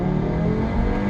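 A 2017 Audi RS3 8V2, manual mode in first gear, accelerates hard with a steady, loud engine note rising smoothly over about a second, heard close up and alone.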